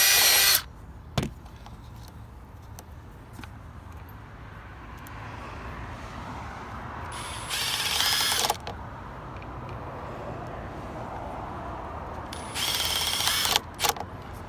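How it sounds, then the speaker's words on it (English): A power drill pre-drills holes for Fiberon Brio Rhythm deck rail brackets, with two short high whirring bursts, each about a second long, separated by a low background hum, close by and with no talking. "Now I can go and pre-drill the other 2"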